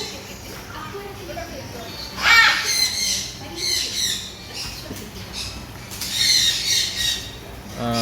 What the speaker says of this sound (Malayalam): ഇത് പക്ഷികളുടെ പാർക്കാണ്.